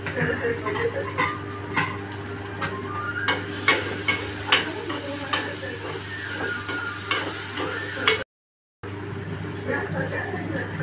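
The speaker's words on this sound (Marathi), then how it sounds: "टोमॅटो नरम झालेला आहे, आता मी थोडीशी आलं लसणाची पेस्ट टाकते" Ginger garlic paste hitting a pan of softened tomato, crackling and sizzling close up while a spoon stirs and clinks against the pan, with a brief silent gap near the end.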